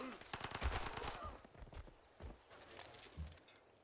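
Rifle shots in Civilization V, several sharp cracks spaced irregularly across a few seconds, moderately loud, with some clattering game effects between them.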